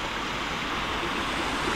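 Water from Yercaud lake rushes in a steady, broadband wash, a continuous close flow with no pauses or voices.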